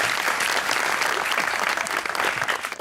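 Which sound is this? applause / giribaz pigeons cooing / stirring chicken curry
applause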